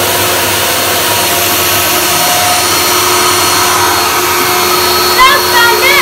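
A restored 1998 Dyson DC01 De Stijl limited edition vacuum cleaner runs loud and close with a constant, even motor roar from start to finish.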